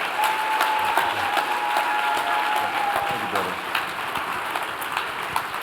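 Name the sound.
applause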